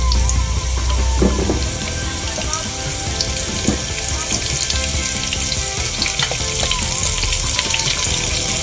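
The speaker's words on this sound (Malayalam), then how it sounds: "ഇത് നമുക്ക് ചൂടായ ചീനിച്ചട്ടിയിലേക്ക് വെച്ച് കൊടുക്കാം." Sliced onion rings hit a hot frying pan and sizzle loudly and continuously, a close, dense crackle of hot oil with small pops throughout.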